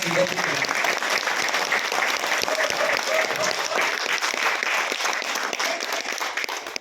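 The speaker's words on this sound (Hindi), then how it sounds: "एक बार जोरदार तालियां बजाते बच्चे को" Audience applause for a child performer at a National School of Drama event, a dense sustained clapping that fills the hall, with a few voices faintly under it.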